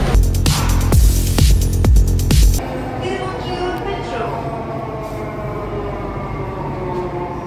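A Chennai Metro train near Thiruvottiyur station rumbles loudly with a tonal hum for a few seconds, then drops to a steadier, quieter running drone.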